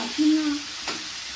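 Prawns frying in a pan for a prawn and taro stolon curry, a brief steady hiss of frying with a faint low hum.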